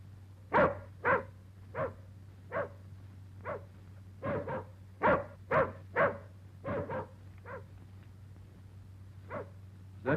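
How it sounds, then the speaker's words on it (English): A dog outside barks repeatedly at a moderate distance, sharp single barks in an irregular rhythm with short pauses, over a steady low hum. "Is that your dog outside?"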